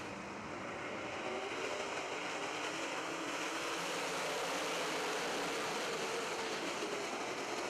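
Race cars battling through the field on a track at the WIX Filters Baltes Classic feature, a dense, steady roar of engines holding loud and continuous throughout, heard from a distance without any close voices.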